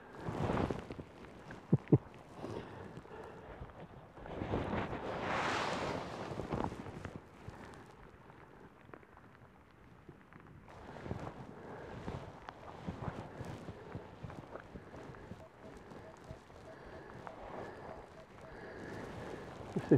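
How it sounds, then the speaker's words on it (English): Strong wind buffets the microphone outdoors at a metal detecting dig, gusting in loud waves of rumble and hiss, with a few faint knocks and a voice talking briefly. "This wind is unbelievable."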